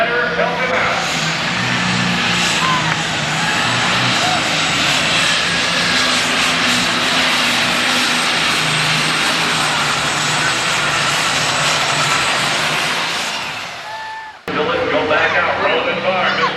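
A John Deere super stock tractor roars at full throttle during a 1993 NTPA Grand National pull in Canfield, Ohio, a loud, dense, sustained engine blast that cuts off abruptly near the end, with an announcer talking over it.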